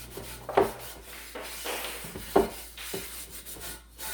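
A rag rubs seasoning into a cast iron pan in soft, repeated strokes, making a close, dry rubbing sound with a few sharper scuffs.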